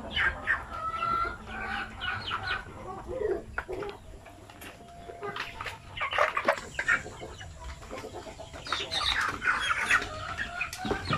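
Native chickens cluck and squawk close by in a busy, overlapping chorus, with occasional louder calls over a constant rustling farmyard background.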